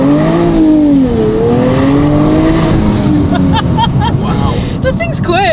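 Nissan sports cars being driven in: a loud engine revs with rising and falling pitch up close, then tires squeal in short bursts near the end, all under a steady roar.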